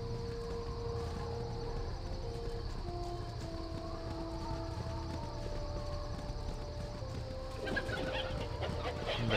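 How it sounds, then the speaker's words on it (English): Game chicken in Baldur's Gate clucking steadily over a continuous background bed of music and ambience, with a few louder rustling bursts near the end. "Okay, the chicken tries to speak."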